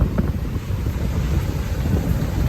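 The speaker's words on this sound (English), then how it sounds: "Those are some big waves." Big ocean surf, eight to ten foot waves, pounds a beach in hurricane conditions, with strong wind buffeting the microphone in a steady loud roar throughout.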